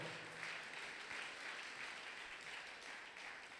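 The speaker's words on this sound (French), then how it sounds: "Est-ce que tu peux acclamer très fort pour Jésus?" A church congregation at a fasting-and-prayer marathon applauds for Jesus, a steady, soft wash of clapping that holds at an even level throughout, with no voices rising above it.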